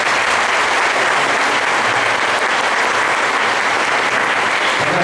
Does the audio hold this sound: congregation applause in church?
yes